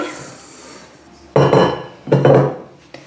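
Chocolate shortbread dough, crumbly and sandy, tipped from a bowl onto a work surface, giving two loud scraping, knocking bursts of clatter close by, each lasting about half a second, with a faint tap at the end.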